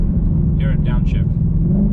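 A 2020 Shelby GT500 V8 drops a gear automatically, its deep engine rumble swelling briefly under someone speaking close by in the cabin.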